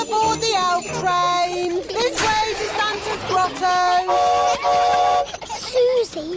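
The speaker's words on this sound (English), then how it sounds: "All aboard the elf train." Cartoon elf train ride at a Christmas fair on the way to Santa's grotto, with bright whistle-like tones and music-box chimes running over cheerful bustle; children's voices talk and call out across the scene.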